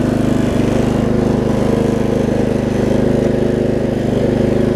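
A Lowe's riding mower engine fitted with a new carburetor, its low-side jet drilled out, runs steadily and loudly at close range with an even, throbbing idle and no pauses.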